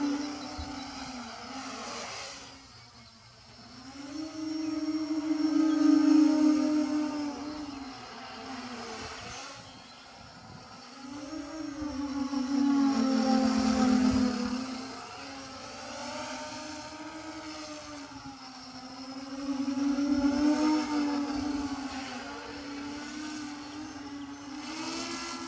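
An XK X350 drone flies during a flight test outdoors, its steady buzzing rotor whine rising and falling in pitch and loudness over several long swells, with no voices.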